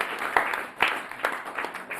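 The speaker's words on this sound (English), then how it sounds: "Let's give him a big round of applause." An event audience gives a round of applause: a continuous wash of moderate, fairly distant clapping with a few louder bursts, lasting about two seconds, with no speech over it.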